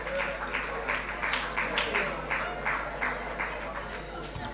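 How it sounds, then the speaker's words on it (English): Applause from the audience in a parliamentary session hall rises for a verified winner, a sustained spread of many hands clapping at moderate distance over a low, steady hum, with faint voices underneath. "A round of applause for him."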